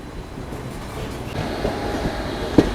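A freight train rolls past on the parallel track near Mathura Junction, a close steady rumble and wheel clatter that builds midway, with a sharp bang near the end.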